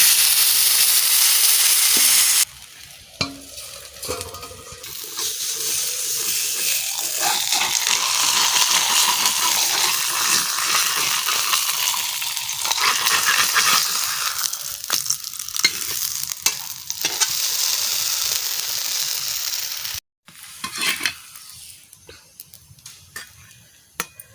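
Maida paratha frying in ghee with a splash of water on a hot pan, a loud burst of hiss and sizzle that settles into steady crackling frying, with scraping stirs and a sharp pan clatter near the end.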